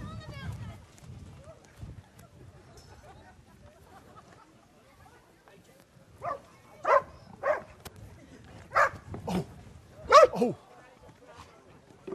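Dogs let loose in a village setting bark in a series of sharp, separate yelps, starting faint and becoming louder and more frequent, with quiet voices in the background.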